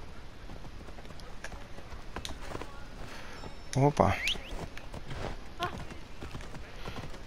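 A horse's hooves clip-clop at a steady gallop in the video game Assassin's Creed Odyssey, with a brief whinny midway and someone talking over the rhythm.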